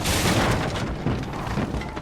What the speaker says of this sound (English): the small, sudden sounds of falling debris that make you curse on your grandma's name